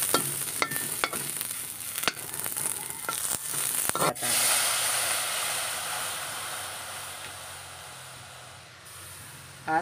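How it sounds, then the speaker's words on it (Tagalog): Onions fry in a pan, stirred with scraping knocks at first, then settling into a steady, close hiss and sizzle that slowly fades. "Tapos, lalagay ko na ang sibuyas."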